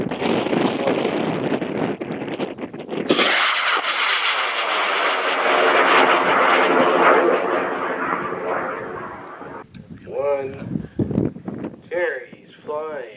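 A high-power rocket on a K250W motor launches with a sudden loud roar that stays strong for several seconds and then fades as it climbs away, with wind buffeting the microphone and voices of spectators talking before and after.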